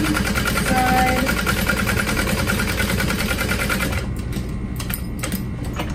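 A sewing machine runs steadily and loud while stitching along the bottom side of a duffel bag at a long stitch length, its rapid, even mechanical rattle continuing for about four seconds before easing into quieter, intermittent ticking.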